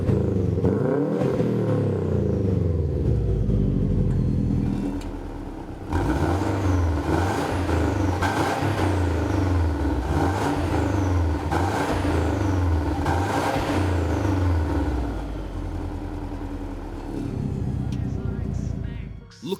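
A 2003 Subaru WRX wagon fitted with an X-Force twin-tip exhaust runs and revs loudly up close, a steady throaty drone with rises in pitch, briefly dipping around the middle and again near the end.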